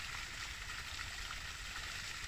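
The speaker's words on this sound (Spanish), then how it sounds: "aquí cae el chorro de las aguas negras" A stream of sewage water pours from a pipe into the Tujava river, a steady faint hiss and rush of falling water, continuous and distant-sounding, without voices.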